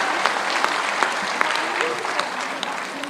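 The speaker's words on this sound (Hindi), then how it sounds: "तालियों के साथ स्वागत करिए" An audience at a women's association conference claps to welcome a Bhojpuri folk singer; the applause is moderately loud and continuous, with individual sharp claps standing out, and voices are audible underneath.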